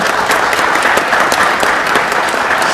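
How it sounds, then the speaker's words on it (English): Steady, dense applause from an audience at a city proclamation ceremony for National Women's History Month, many hands clapping at once without a break. "Let's give them a round of applause."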